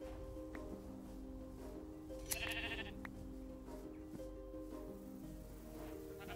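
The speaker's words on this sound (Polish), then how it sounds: "Patrz, mamy taką mini farmę owiec." A sheep on a small farm in a village life video game gives a brief, faint bleat over a steady low hum of background ambience.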